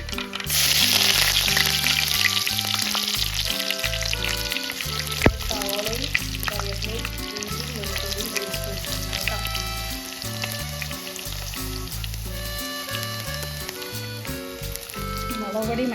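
Mustard seeds spluttering in hot oil in a home kitchen, a loud continuous crackling sizzle with sharp pops, close up, while background music plays along.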